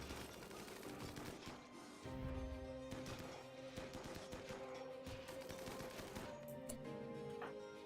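Rapid gunfire strikes walls in a RimWorld colony fight, a dense stream of sharp cracks and bursts running throughout at moderate distance.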